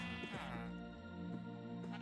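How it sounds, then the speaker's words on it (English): Sheep in a video game bleat in a steady, buzzy, wavering cry lasting a couple of seconds, loud and close against faint game background sound. "There's many sheep down here."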